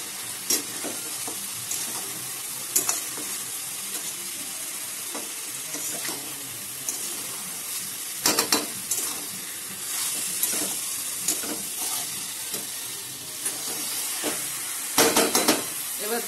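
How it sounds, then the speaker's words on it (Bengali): Tender goat meat curry sautés in a pan with salt, turmeric and oil, making a loud, close sizzle with hiss and steam, broken by repeated clanks and scrapes of a utensil against the pan, and no talking. "তো মাংসটা কষানো হয়ে গেছে একদম"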